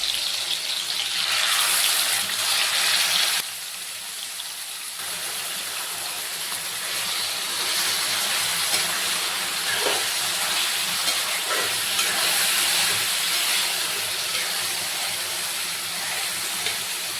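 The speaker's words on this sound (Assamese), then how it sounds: "তাৰ পাছতে কেৰাহীখন গৰম কৰি তেলখিনি গৰম হ'বলৈ দিলোঁ আৰু মাংসখিনি দি গোটেইখিনি ভালদৰে ভাজি ল'ম।" Marinated chicken pieces fry in hot oil in a wok, giving a loud, steady sizzling hiss that dips briefly early on and then continues evenly.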